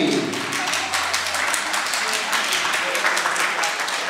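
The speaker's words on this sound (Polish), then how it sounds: "Wielkie gromkie brawa dla pary młodej!" Wedding guests applaud the newlyweds at a Polish reception, a steady wash of clapping filling the room for several seconds, with voices faintly mixed in.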